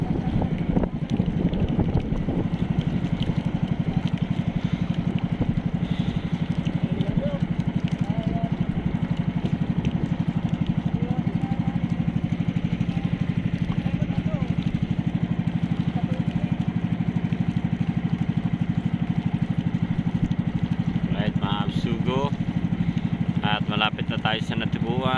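A steady boat engine drones throughout, loud and constant, heard from the bow, with wind buffeting the microphone and a voice talking over it.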